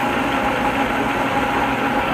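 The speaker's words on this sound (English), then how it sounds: "My trusty, sharp 20 by 60 engine lathe that every speed freak should have in his garage." A 20 by 60 engine lathe in a home garage workshop facing off a metal part, giving a steady, dense mechanical whir and hum that runs unbroken throughout.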